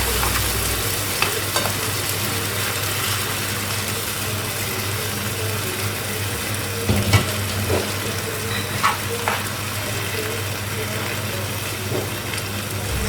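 Lasagne sauce sizzles loudly in a pan as water is poured in, giving a continuous broadband hiss and spatter with a few sharper pops and knocks partway through.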